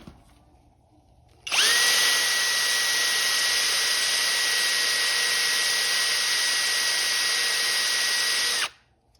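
A power tool runs steadily for about seven seconds, loud and close, as rust is stripped from the brake parts of a 2012 Ford F-150, starting and stopping abruptly.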